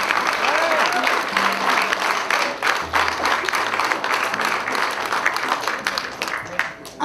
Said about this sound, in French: j'aimerais qu'on donne une bonne main d'applaudissement à nos vedettes de ce soir